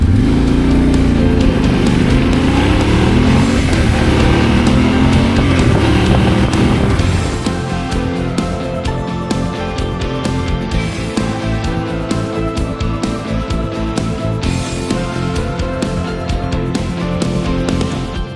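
Vehicle engine noise, loud and steady, as a motorcycle rides through Brisbane's central business district among skyscrapers, cars and buses, with a tonal shift partway through.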